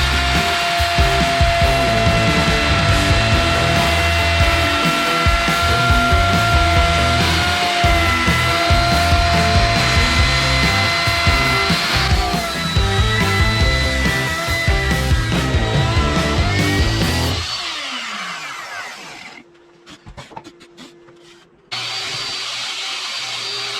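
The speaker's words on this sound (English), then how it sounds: "I'm going to use the router with a 3/4 inch bit, just straight mortising bit or whatever you want to call it, and use that to make our dado" A router fitted with a 3/4 inch straight mortising bit cutting a dado in wood, a loud continuous whine with gritty cutting noise that drops away near the end, followed by a short quieter spell and a return of steady motor hum.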